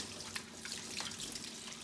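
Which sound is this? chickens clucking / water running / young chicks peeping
water running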